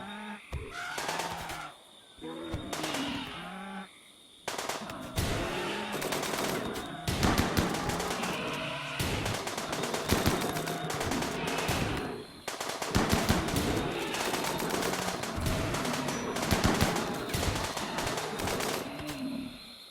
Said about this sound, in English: A brief but savage display of firepower shreds through the herd